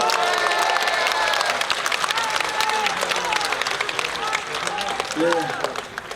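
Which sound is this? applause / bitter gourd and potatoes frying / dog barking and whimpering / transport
applause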